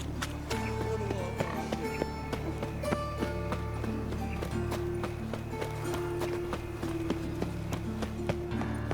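Steady clip-clop of horse hooves in the video game The Witcher 3: Wild Hunt trots along continuously, even and rhythmic, over a constant low background hum and music.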